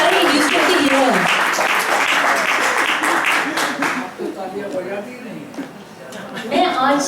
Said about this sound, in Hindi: तालियां, नहीं जोरदार तालियां हो रही है।